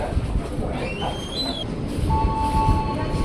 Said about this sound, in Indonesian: itu ada KRL yang mau berangkat tuh